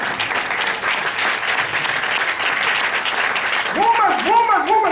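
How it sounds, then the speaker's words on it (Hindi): A church congregation claps steadily throughout a Hindi sermon, dense and continuous, with a voice rising over the applause near the end. "अभी तो ताली बजाओ कम से कम।"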